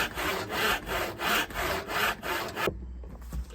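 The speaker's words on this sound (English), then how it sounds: "I switched it up to an 11 points per inch rip cut saw." An 11 points-per-inch hand rip saw cuts along a walnut board in about six rhythmic push-pull strokes, loud and close, then stops abruptly.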